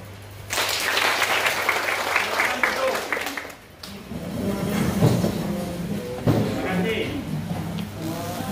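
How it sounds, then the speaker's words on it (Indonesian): Students at a high school leadership training session break into brisk, sustained group applause that fills the space, with a short dip midway before clapping resumes, mixed with crowd noise and voices. "Aplaus"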